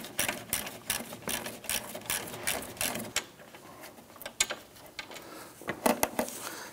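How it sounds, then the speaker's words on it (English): A ratchet with a socket loosens a bolt on a 2011-2019 Ford Explorer, producing quick close clicking bursts in uneven runs that thin out toward the end. "Use our ratchet and our socket."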